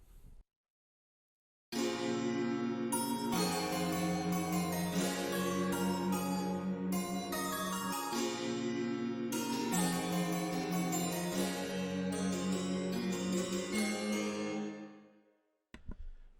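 Bright synth chords are strummed in a flowing sequence in FL Studio, rich and sustained with slightly uneven attacks from randomized velocities, playing alone before fading out.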